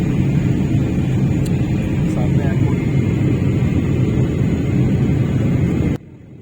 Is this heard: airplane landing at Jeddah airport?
yes